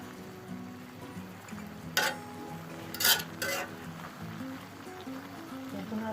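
Spinach and prawns stirred together in a cooking pan, with a spoon scraping and clinking against the metal in a few sharp knocks over a low simmering sizzle; a voice speaks faintly in the background.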